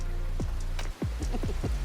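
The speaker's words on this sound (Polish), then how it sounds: "A na razie posłuchajmy dźwięków deszczu." Rain falls with distinct drops plinking and splashing close by, a quick irregular patter over a low steady hum.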